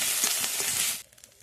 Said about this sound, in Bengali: আদা বাটাটাকে ভালো করে দিয়ে কষে নেব।